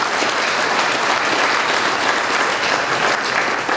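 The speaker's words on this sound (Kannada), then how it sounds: "ಚಪ್ಪಾಳೆ ಸುರಿಯಿರಿ" Sustained, dense applause from an audience at a village gathering honouring a young runner, loud and continuous with no gaps throughout.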